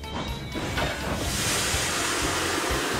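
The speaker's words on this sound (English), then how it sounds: "he's also making a huff sound from his funnel" A steady, broad hiss of steam huffs from the funnel of Percy, the little steam engine from Thomas & Friends, loud and continuous with no voices.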